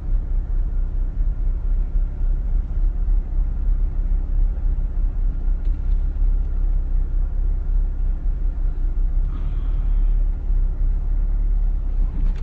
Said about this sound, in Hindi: मतलब गाड़ी मैंने ऑन की ताकि उधर से आके तो वो गाड़ी में बैठ सके और फयाज उसके साथ।